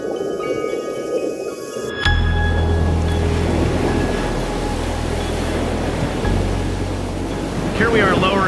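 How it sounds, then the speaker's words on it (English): Ocean waves and strong wind rush past the microphone on a ship deck while the robot submarine Nemo is lowered into the sea, a loud, continuous roar with a low engine hum beneath. "Here we are lowering the robot submarine Nemo into the ocean"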